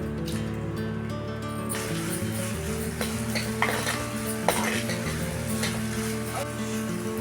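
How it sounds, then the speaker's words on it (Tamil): Onions frying in oil with cloves and cardamom in a pan, stirred now and then, for a South Indian fish curry. A low sizzle runs under a steady hum, with faint clinks and scrapes of stirring. "வெங்காயம் இவ்வளவு பொரிஞ்சா போதும்."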